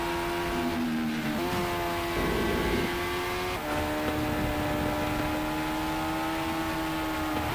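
A McLaren race car engine in a racing video game drones at a high, steady pitch, shifting briefly around gear changes before holding a sustained whine, loud and continuous without talk.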